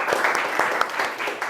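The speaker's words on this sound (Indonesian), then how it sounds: "Saya berikan tepuk tangan buat semua." Short burst of applause for student groups after their Arabic speaking practice in a teacher performance exam, clapping steady and fairly close throughout.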